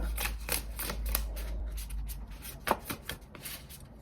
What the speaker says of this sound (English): we'll be shuffling on camera today